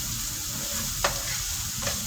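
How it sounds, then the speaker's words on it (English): Ingredients for a black bean stew sauté in a pan with a steady close sizzle, punctuated by two short scraping clicks of a utensil stirring. "we're just going to saute this until it is a little translucent, not too much"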